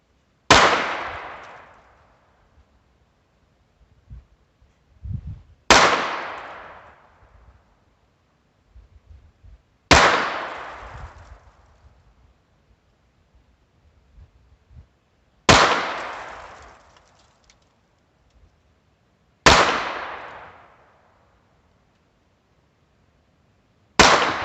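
Five loud, sharply separated gunshots from a Heritage Barkeep revolver firing Remington Thunderbolt ammunition, each crack trailing off in a brief echo, spaced about five seconds apart, with faint handling noises between shots.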